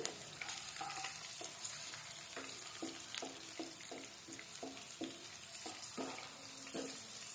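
Cumin seeds fry in hot oil over a high gas flame, giving a continuous close sizzle broken by regular light scrapes and taps of stirring, with no voices.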